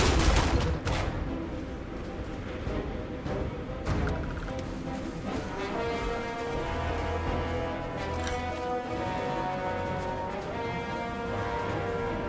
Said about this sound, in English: Damn, I am unloading this entire mag into this face.